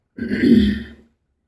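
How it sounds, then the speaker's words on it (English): A single close throat clearing, a short raspy rumble lasting under a second, followed by silence. "We don't want to be clearing my throat all night."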